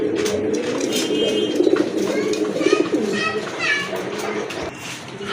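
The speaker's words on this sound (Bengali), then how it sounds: "ওই যে হাড়িতে যেটা আছে ওইটা হচ্ছে মাদি কবুতর।" Pigeons coo repeatedly nearby, a pair of domestic pigeons kept with the female in a clay pot, while children play and people talk in the background.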